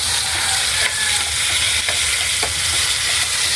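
Green papaya sautéing in a pan with a splash of vinegar and salt, stirred continuously: a steady, close, dense sizzle with faint scraping strokes throughout, and no talking.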